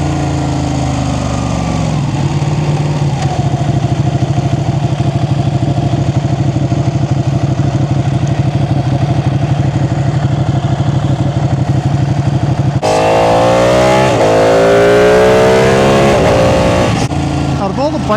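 A Ducati 899 Panigale race bike engine runs loudly and steadily close by, then its pitch climbs and falls in several rising rev sweeps, while a voice speaks over it.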